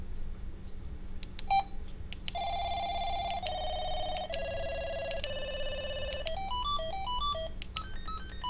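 An EnGenius FreeStyle2 cordless phone plays through its ringtone options: a few short beeps, then sustained electronic tones stepping down in pitch, then a quick rising and falling run of melodic bleeps, heard close and clear over a faint steady hum.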